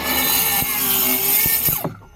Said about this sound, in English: let's keep cutting.